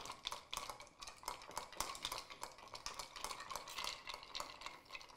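A cocktail stirred over big rocks of ice in a mixing glass for a Bijou, with steady rhythmic clinking and rattling of the cubes and the spoon, close and fairly loud, and no speech.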